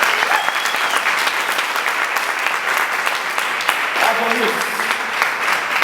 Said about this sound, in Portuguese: Uma salva de palmas no lugar.